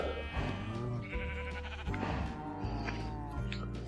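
Repeated sheep bleats from Minecraft livestock, several overlapping calls spread through the clip over steady in-game ambience, loud and close.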